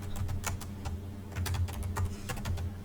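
Rapid typing on a computer keyboard, entering a stock ticker name: a steady run of close, crisp key clicks in bursts, with no voices.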